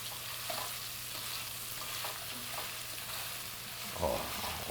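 Chopped onion sautés with spicy sausage in a pan for chestnut stuffing, a faint, soft sizzle broken by light stirring scrapes and a sharper clatter near the end.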